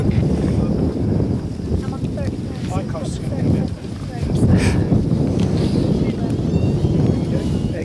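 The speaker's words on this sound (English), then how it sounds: "bloody wind blowing in your eyes" Strong wind buffets the microphone outdoors during viewing of the 2002 total solar eclipse in Australia, a loud, continuous roar that gusts and eases, with people talking under it.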